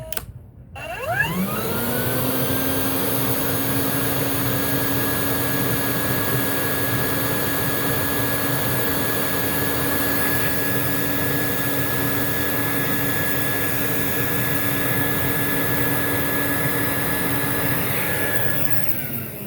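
A Rainbow E2 Black vacuum cleaner with no hose attached, switched to high speed: the motor winds up over about a second, then holds a loud, steady whining roar close by for the rest of the clip.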